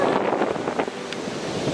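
Wind buffets the microphone on a San Francisco beach in California as waves wash in, making a loud, rushing, continuous roar with gusty swells and no talking.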